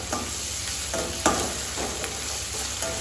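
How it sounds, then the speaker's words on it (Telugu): Crushed ginger and garlic fry in a pan for sorrel-leaf chicken curry, a close, steady sizzle broken by several soft stirring scrapes at regular intervals. "ఇది కొద్దిగా ఫ్రై అవ్వాలి."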